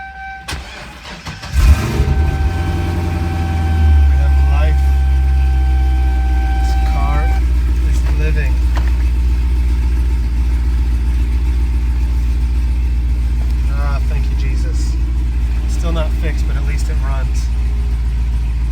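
A Corvette C6 engine cranks and fires up, then settles into a loud, steady rumbling idle for a long stretch, with brief chirps and faint voices.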